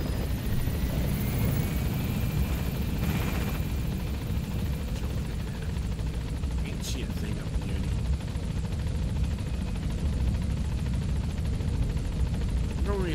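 Steady helicopter rotor and engine noise from Metal Gear Solid V: The Phantom Pain on PC, a continuous loud drone filling the whole stretch, with a voice speaking briefly over it.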